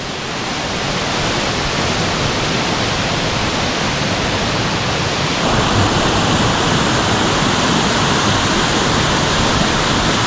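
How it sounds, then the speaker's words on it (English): A waterfall in Kangaroo Valley roars continuously, a loud broad wash of falling water that never lets up, heard close with no voices. "Gonna sit back, enjoy this unique waterfall."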